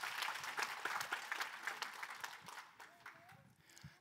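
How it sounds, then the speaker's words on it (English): An audience at a business presentation claps in a broad wave of applause that tapers off, with a few scattered claps and a brief voice near the end. "Please give a big round of applause to yourself"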